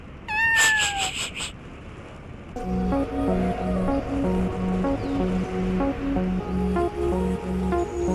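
A cat gives a couple of quick, high meows near the start, then rhythmic background music plays steadily, heard during a motorcycle ride on an Italjet Dragster 250cc scooter.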